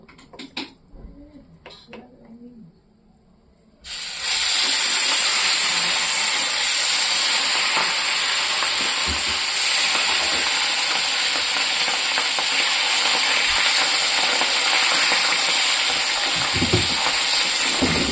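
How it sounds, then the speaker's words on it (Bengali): Rohu fish pieces coated in turmeric and salt fry in oil in a kadai. After a few seconds of quiet handling, a loud, steady, close sizzle starts suddenly and holds throughout, with occasional crackles and scrapes. "এখন ভাজা করব"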